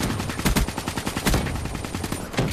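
Rapid automatic gunfire in the Call of Duty: Black Ops 3 video game, dense bursts of close shots crackling continuously with a few heavier booms, loud and alone with no talking.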